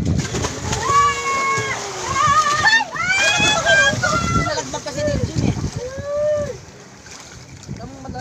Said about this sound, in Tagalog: Malakas ang alon eh